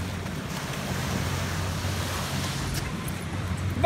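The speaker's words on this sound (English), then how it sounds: "Oh, here comes some waves." Ocean surf washes onto a beach in a steady, broad roar, loud and close, mixed with wind buffeting the microphone and a brief sharp sound at the end.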